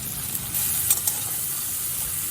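Tomato with turmeric, salt and spices frying in a pan on medium heat, a steady soft sizzle and hiss throughout with a few brief louder crackles early on, close and alone without talk.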